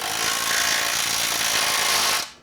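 A power tool whirs steadily for about two seconds while tightening the bolts on a swing frame, a loud close buzzing drone that cuts off abruptly at the end.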